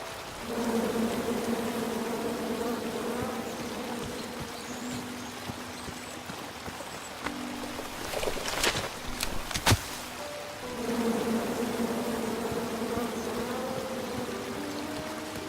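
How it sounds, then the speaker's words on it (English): A swarm of bees drones in the King's Quest video game, a steady buzzing hum that cuts out briefly in the middle amid a few sharp effect sounds, then swells back. "Come at me, bees!"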